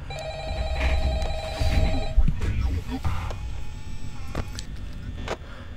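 A telephone rings repeatedly in the Five Nights at Freddy's horror game during night two, its steady electronic tones running through the first two seconds over a busy, noisy background before fading out.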